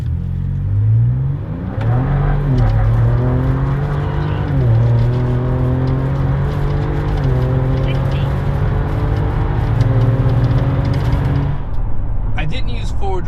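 A 2025 Ford Ranger Raptor with 10.5:1 compression and a 10-speed transmission accelerates in sport mode, its engine note climbing through several upshifts, loud and close, before it settles back near the end.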